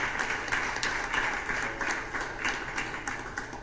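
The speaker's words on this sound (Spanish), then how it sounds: "Dele fuerte ese aplauso" A church congregation applauding during a service, a fairly soft but steady patter of many hands clapping together for a few seconds.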